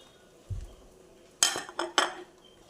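A spoon stirs cooked lentils with onion, tomato and green chilli in a pot, giving a soft thump followed by three quick metallic clinks and scrapes against the pot, close by and without talk.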